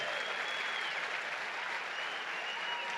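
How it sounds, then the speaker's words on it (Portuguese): A church congregation applauds at a missions conference, a dense, steady wash of many hands clapping that holds evenly for the full three seconds with no break. "Vamos aplaudir o homem de fé que nós temos aqui."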